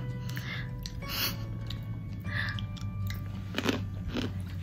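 Close, steady chewing and crunching of spicy food flavoured with mustard oil, with repeated bites over constant low background noise, heard in a room at the Oberoi Grand hotel.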